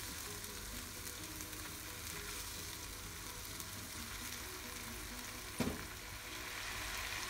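Steady sizzling of spice paste stir-frying in a hot pan for potato and shrimp balado, a dense continuous crackle with a brief clatter of stirring near the end; no voices.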